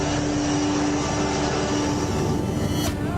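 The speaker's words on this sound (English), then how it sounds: "Sasakay kami nitong Black Hawk helicopter." A Black Hawk helicopter drones steadily and loud throughout, a dense, continuous engine and rotor roar with a sustained tone, with no voices over it.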